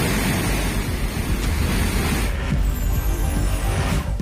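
Flash flood water after a cloudburst rushes in a loud, continuous roar with a heavy low rumble and wind-like noise throughout, with no voices.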